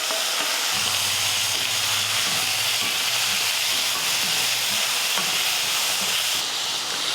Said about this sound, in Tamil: உப்பு சேர்த்துட்டு இதை நல்லா வதக்கலாம்.